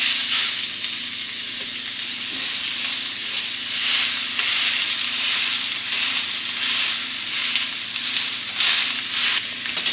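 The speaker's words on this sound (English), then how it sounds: "to do this reverse sear on these steaks" Shio-koji marinated steaks sear in a hot pan for a reverse sear, giving a loud, continuous sizzle with pulsing surges of spattering fat and no voices.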